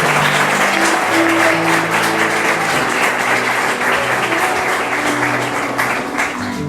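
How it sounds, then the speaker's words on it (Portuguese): Church congregation applauding during a worship service, loud and close, a thick continuous roar of clapping mixed with voices and sustained tones, tapering slightly near the end. "Vamos aplaudir mais uma vez ao Senhor por esta família linda."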